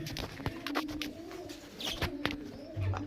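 Pair of Royal Teddy pigeons cooing nearby, soft low rolling coos repeating through the stretch with a few sharp clicks and faint chirps around them.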